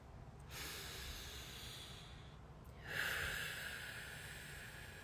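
A deep breath drawn in twice, a soft airy inhale followed by a louder, fuller hissing breath, close and alone without talk.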